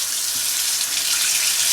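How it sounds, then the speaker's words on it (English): Hot water running from a tap over a frozen cucumber, a steady close hiss of flowing water with no pauses. "You run it in some hot water."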